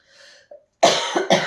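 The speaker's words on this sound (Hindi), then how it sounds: "अब बीच-बीच में आज खाँसी आती रहेगी।" A woman with a sore throat gives a faint throat-clearing rasp, then two loud, harsh coughs close to the mic, heard alone without speech.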